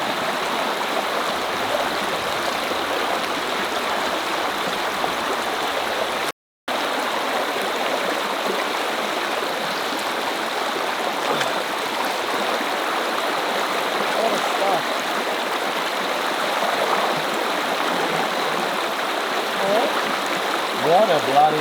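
Steady rushing creek water flows continuously, close and full, with a very brief gap partway through, at a creek bar in Australia.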